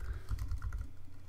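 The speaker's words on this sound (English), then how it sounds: "Then you want to type in your email address" An email address being typed on a computer keyboard, a quick, soft run of key clicks at close range, steady and unbroken for a moment.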